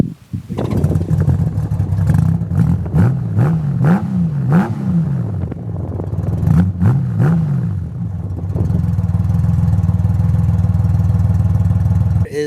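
A Honda Goldwing motorcycle fitted with a Shark Road 4-inch megaphone exhaust idles with a deep, loud rumble, then revs in several sharp, rising bursts before settling back to a steady idle.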